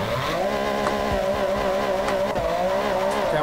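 A car in a JDM racing video game, a full carbon Honda Civic with turbo, screams steadily through a drift, its engine droning loud and continuous under sharp tire squeal, with no voices.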